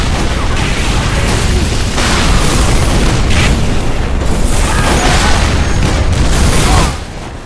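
Rocket explosions in Team Fortress 2, loud and continuous booming blasts and bursts that crowd one another before dropping off sharply near the end.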